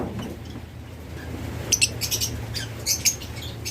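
Pet lovebirds, cockatiels and budgerigars let out short, bright chirps in scattered clusters over a low background hum, nearby and moderately loud, with no talking.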